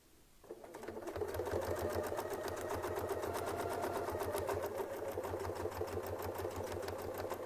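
A sewing machine fitted with a Westalee Spin E Fex ruler starts up and stitches in a fast, even mechanical whir, running steadily close by for several seconds.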